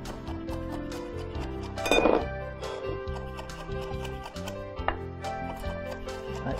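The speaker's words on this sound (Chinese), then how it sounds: "那虾仁呢也稍微剁一下" Shrimp meat being lightly chopped with a knife on a board while making crab cakes: soft, scattered taps that sit quietly beneath steady background music.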